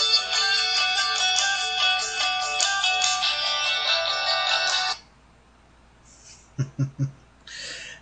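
A mobile phone ringtone plays loudly during a live stream, a bright repeating melodic tone that cuts off abruptly, followed by a few soft blips and short tonal chirps in near silence.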